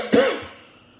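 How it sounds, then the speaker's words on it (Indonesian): A single close cough from a man delivering a religious lecture, one sharp burst that quickly trails off into room quiet. "Mulai batuk nih saya."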